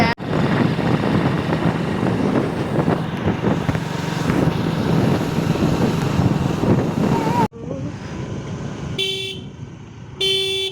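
Steady wind rush and engine drone on a motorbike ride, the rider's scarf flapping in cool air, loud and continuous for most of the stretch before dropping to a quieter passage with brief tonal beeps near the end.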